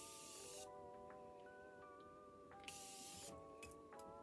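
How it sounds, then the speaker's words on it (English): Continuous setting spray misted onto a face during makeup, two sustained fine hissing bursts of mist, close and fairly quiet, over faint background music with no speech. "Then I'm gonna go in with this continuous setting spray, avoiding the eye area as much as you can."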